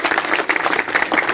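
A school audience applauds the staff of an institution for deaf and mute children, with dense, steady clapping close by throughout, carrying no talk.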